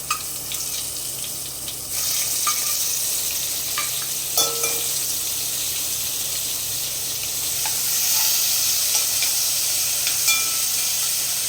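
Ginger, chili and garlic paste with asafoetida sizzles in hot oil over a low flame, steadily crackling after a sudden jump in loudness, a dense hiss with occasional pops, no talking.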